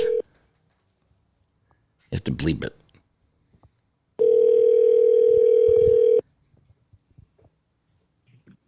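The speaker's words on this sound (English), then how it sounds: "You calling it? Yeah, I'm calling 595." A short tone and a burst of noise, then a steady telephone dial tone lasts about two seconds as a number is dialed. A voice speaks briefly before it.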